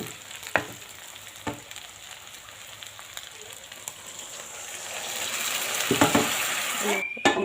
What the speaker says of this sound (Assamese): এয়া চাওক কি ধুনীয়াকৈ ফ্ৰাই হৈ আছে আৰু এয়া চাইছে আপোনালোকে মাংসটো ভাজি